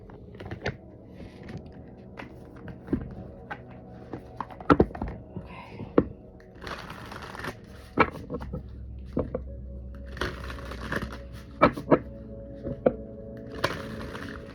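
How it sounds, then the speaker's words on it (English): Cards are shuffled before a crystal is drawn: bursts of close, papery riffling separated by dull taps and knocks on a hard surface, heard alone and fairly loud. "Wow, that was a great shuffle."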